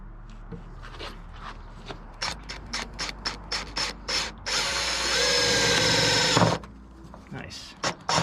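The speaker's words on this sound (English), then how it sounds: "And it's drilling holes." A power drill bores holes in a Nissan 350Z body panel for a fender flare install. It gives short whirring bursts, then one longer steady drilling run, close by, with people talking around it.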